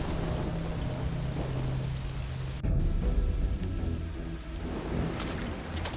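A rainstorm in the Risen 2 video game: steady heavy rain hisses throughout, and a sharp thunderclap breaks in midway before rolling into a low rumble under the continuing downpour.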